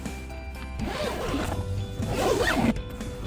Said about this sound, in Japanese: ファスナーの引き手の部分です